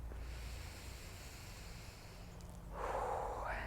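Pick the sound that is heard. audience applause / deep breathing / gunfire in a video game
deep breathing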